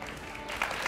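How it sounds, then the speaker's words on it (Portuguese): Brief applause from a talk show studio audience, a soft, blurred clapping texture that grows a little brighter and busier toward the end. "Palmas, professor."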